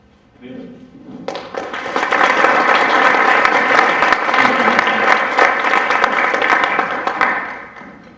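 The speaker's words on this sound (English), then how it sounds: "want to applaud everyone who's been involved and thank them for all that they're doing for the school." Applause from a school parent meeting audience swells quickly after a brief quiet start, holds as loud, full clapping from a large crowd, then tapers off near the end.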